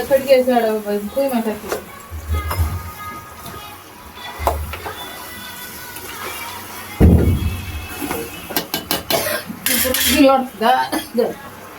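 Chicken curry in masala is tossed and flipped in a metal pan, giving repeated loud clanks and scraping thumps of metal on metal in bursts, with speech over parts of it.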